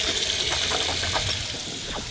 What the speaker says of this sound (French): Bon j'abuse, c'est de l'eau du robinet.